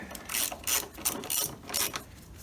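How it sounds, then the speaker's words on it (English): Ratchet wrench clicking in quick bursts while tightening bolts on an Audi S4 during an H&R spring install, working in a crisscross pattern; several rhythmic clicking runs, close and clear, with no talk. "give these bolts up here a nice torque. I'm gonna go in a crisscross pattern."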